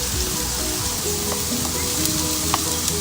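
A ribeye steak sizzles steadily in melting butter, a loud, continuous crackling hiss with occasional pops, heard close and alone.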